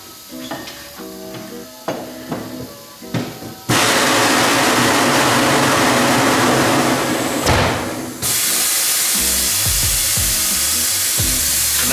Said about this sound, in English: This machine breaks them in from the sides